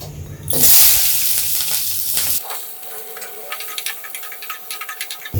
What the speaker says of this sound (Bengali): এই তেলের মধ্যে আমি পেঁয়াজগুলো ভেজে নিই